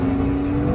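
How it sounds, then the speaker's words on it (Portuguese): A car drives smoothly at moderate speed on a controlled course, giving a steady, loud engine hum with a constant tone and no talk, lasting under a second. "Este carro roda suavemente, em um percurso muito controlado."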